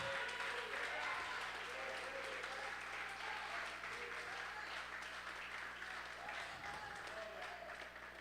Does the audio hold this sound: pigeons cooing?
no